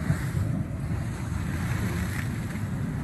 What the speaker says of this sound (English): the sea's crashing in off this wall.